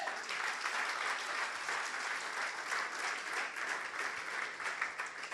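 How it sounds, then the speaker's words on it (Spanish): A church congregation applauds with steady, sustained clapping that fills the room throughout, with no voices standing out. "Un aplauso al Señor."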